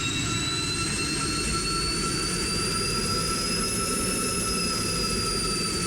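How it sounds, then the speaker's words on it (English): A jet fighter's engines roar in the Strike Fighters 2 flight game during the takeoff roll, a loud steady rumble with a rising turbine whine that holds for several seconds, no talking. "Alright, we're clear for takeoff. On the takeoff roll now."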